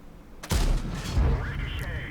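A tank gun fires with a sharp, loud boom in the video game World of Tanks, and the shot ricochets off an American Tier 7 heavy tank with a ringing metallic whine; a narrator talks over it.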